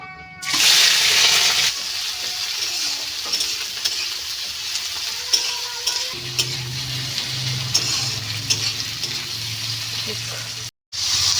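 Onion and chilli fry in a pan, loud continuous sizzling with stirring scrapes and clatter throughout, close up, a low hum joining partway and a brief cut near the end.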